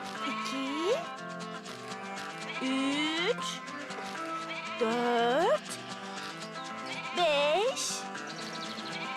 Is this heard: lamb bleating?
yes